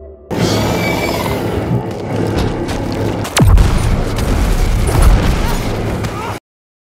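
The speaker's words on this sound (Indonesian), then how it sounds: "Sebuah ranjau meledak" A landmine blast in a dramatic horror-action scene: a loud, sudden boom with a sharp pitch-falling sweep midway, set in a dense, continuous rumble of battle noise that stops abruptly.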